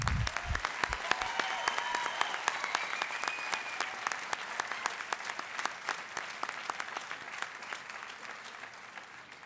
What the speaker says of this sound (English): Just one more big round of applause for our top 10.